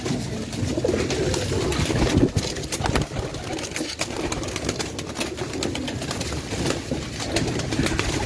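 Pigeons cooing continuously in soft, low murmurs, several birds close together with a busy background hum.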